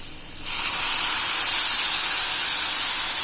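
Chili garlic mixture hitting hot oil with browned onions in a pan bursts into a loud, steady sizzling hiss that starts half a second in and holds evenly to the end, close up with no talking.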